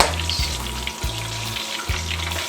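A pork leg for crispy pata deep frying in a pot of oil, loud close bubbling sizzle with a low rumbling churn and a few periodic surges, no talking.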